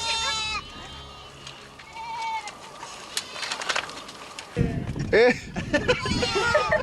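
Goats kept by Borana herders in Ethiopia bleat during milking, several calls near and far against outdoor background. A loud bleating burst comes near the end, with other animal and bird calls mixed in.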